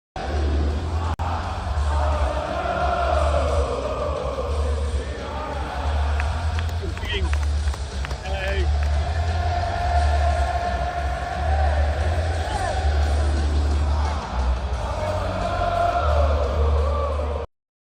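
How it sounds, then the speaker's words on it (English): A large wrestling arena crowd sings a sustained, swelling chant at the wrestler Christian, a dense, loud mass of voices that carries on steadily throughout with general roar and scattered shouts underneath. "We were trying to figure out what the crowd was singing into Christian."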